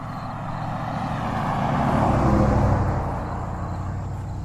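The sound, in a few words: car driving past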